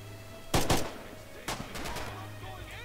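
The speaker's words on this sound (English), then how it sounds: "I'm very good at giving suppressive fire." Gunfire in the World War II shooter Red Orchestra 2, two close, sharp bursts early followed by a further shot and scattered rattling impacts over a low steady hum.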